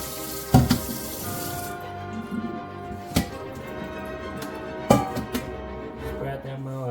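Pork pieces rinsed under a running kitchen tap in a sink, a steady close hiss of water with a few sharper knocks and splashes as the meat is handled.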